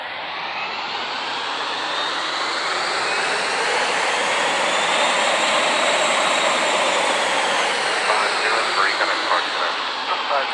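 An Airbus A330 airliner at Amsterdam airport roars with a broad, steady jet engine rush that builds slowly and stays loud for the whole stretch, with no voices heard.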